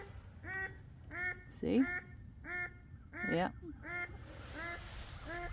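A duck near its egg gives a series of loud, close quacking calls in a steady rhythm, with a few louder harsh honks mixed in, while a person speaks briefly.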